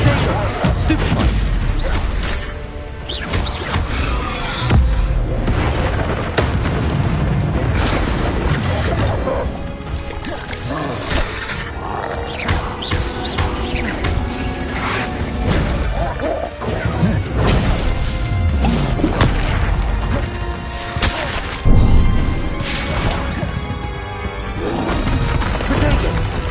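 Confringo blasting spells in the Hogwarts video game hit with repeated crashing, smashing booms and shattering impacts amid whooshes and clattering mechanisms. The sequence is loud and busy, with a voice calling out at times.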